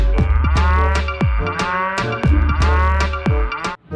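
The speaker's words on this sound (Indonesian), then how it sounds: "Ih, ini ada sapi yang kayak tadi ya teman-teman." Cows in Jurassic World Evolution 2 give a run of loud, close, overlapping moos, several deep bellows one after another with no talking.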